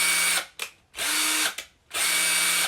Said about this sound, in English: just by listening to the quality of the drill